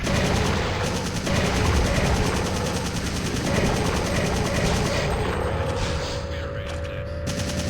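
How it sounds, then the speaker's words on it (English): A rail cannon fires inside a power station in a video game, heard as dense, loud, continuous rattling blasts with a deep rumble. A rising electronic tone emerges near the end. "Look at this power station just has a rail cannon in it. And it's set to fire as soon as it's powered."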